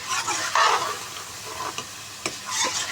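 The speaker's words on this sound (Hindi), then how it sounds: "ये देखिए जो घी है इसका अच्छे तरीके से मसाला तैयार हो रहा है" Masala of onion and tomato frying in ghee for aloo chicken shorba, a steady close sizzle with a few sharp stirring scrapes and clinks of a spoon against the pot.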